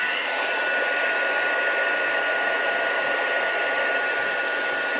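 A handheld embossing heat tool blows a steady, loud whirring hiss as it warms embossing powder for Stampin' Up! card-making; the drone runs unbroken for the whole stretch, with no talking over it.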